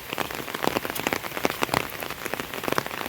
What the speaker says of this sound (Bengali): সব বৃষ্টি হচ্ছে কত সুন্দর